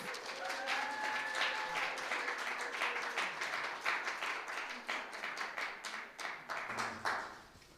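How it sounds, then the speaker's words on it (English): Audience applause at a folk concert, a dense wash of clapping from a crowd that swells and holds steady, with a few whistles early on and no talking over it. "please give them a warm round of applause"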